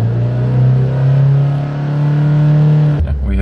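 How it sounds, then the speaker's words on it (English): A Toyota car engine revving as the gas pedal is pressed, a loud close steady drone that swells and eases before a sharp drop near the end. "Let me try to step on the gas pedal."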